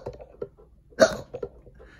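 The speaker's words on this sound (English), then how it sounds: "Uh-oh, we got another hiccup." A person hiccups once, a sharp sudden gulp in the middle of otherwise quiet, soft background sounds, close and fairly clear.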